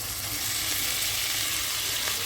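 Pre-fried potatoes and cauliflower sizzling steadily in spiced tomato masala, a close, continuous crackling hiss with no voices.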